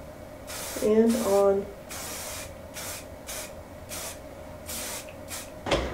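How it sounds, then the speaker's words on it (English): Heat protectant spray is misted onto hair in a series of short, close hissing bursts with pauses between them, accompanied by brief speech and light handling noises. "So I'm gonna spray this on my hair"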